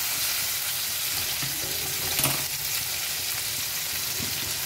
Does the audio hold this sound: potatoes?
yes